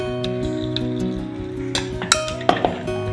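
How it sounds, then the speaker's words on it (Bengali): Milk, cream and semolina being stirred together in a saucepan, with a few clinks of a spoon against the pan rising over a steady background hum, sharpest near the end. "সবটাকে ভালো করে মিশিয়ে নেব। এবারে অল্প অল্প করে সুজিটা মিশিয়ে নেব।"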